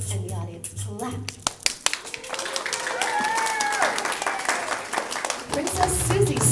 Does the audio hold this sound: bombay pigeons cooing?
no